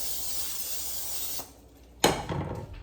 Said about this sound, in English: Now you can either use butter or use spray.